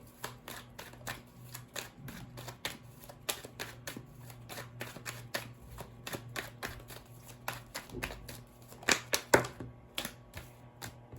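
Tarot cards being shuffled and drawn by hand, a dense run of quick papery riffles and taps over about eleven seconds, close and fairly quiet, with no talking.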